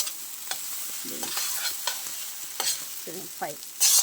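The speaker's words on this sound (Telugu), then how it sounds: "సిమ్లో పెట్టుకొని ఫ్రై చేసుకోవాలి." Masala eggplant (vankai) fries in a pan over a low flame, a soft constant sizzle broken by repeated spatula scrapes and stirring knocks, close and without talk.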